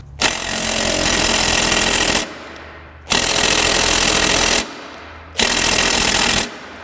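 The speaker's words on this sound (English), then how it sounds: "I strongly recommend the use of an impact. It seems to work a lot better for breaking rusty parts loose." A pneumatic impact wrench hammers at rusty suspension bolts on a 1998 Mazda 626 during front lower control arm and outer tie rod work, in three loud, close sustained bursts of rattling with short pauses between.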